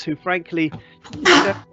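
A single sharp sneeze bursts out among nearby talk, loud and brief, with people speaking just before and after it.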